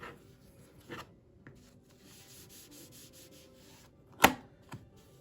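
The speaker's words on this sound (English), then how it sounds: "with my 60mm cutter, I'll trim away the front of my block" A 60mm rotary cutter rolls across layered quilting fabric in a single short, sharp scrape, with faint rubbing and handling of the material before and after in a quiet room.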